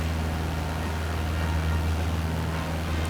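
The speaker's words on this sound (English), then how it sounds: "I always love the engine propeller sounds in planes" Steady droning propeller engine of a Cessna light aircraft in a flight video game, a continuous low hum holding level and close throughout with no talk.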